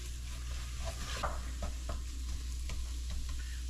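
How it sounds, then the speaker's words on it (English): Flour being stirred into a pot of clam chowder base, with steady spoon scrapes and a low sizzle running under a constant hum throughout, no one speaking. "we're going to stir that and cook that raw taste out of that flour"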